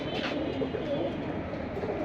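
Pigeons coo steadily inside a loft, a dense, continuous murmur of several birds close by with no pauses.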